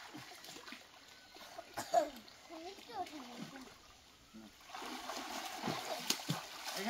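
Water splashes as a child dives into a village canal while learning to swim, with uneven splatters and a rushing wash in the second half, heard under voices calling out nearby.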